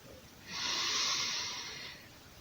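A single long, deep in-breath taken during a back-stretching exercise, close and breathy, swelling and fading over about a second and a half with no talk.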